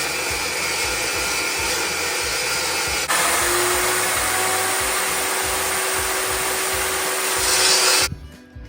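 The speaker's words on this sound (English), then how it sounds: "I got to cut it on my saw and get it all into the right length and shape" A saw cuts pieces for a metal hog trap door with a loud, continuous whining roar and a pulsing low rumble underneath. The pitch shifts partway through, then the sound stops abruptly.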